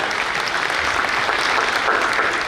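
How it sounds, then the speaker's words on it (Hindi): Dense, sustained applause from an audience at a Lions Club gathering, steady and fairly loud throughout, with no pauses and no voices standing out. "मैं चाहता हूँ कि जोरदार तालियां हो जाए"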